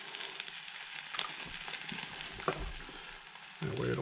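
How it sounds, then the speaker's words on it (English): Food sizzles and crackles steadily in a hot pan on a camping stove, with occasional clinks and scrapes and a low hiss of a burner underneath. "And we got some sizzling going on"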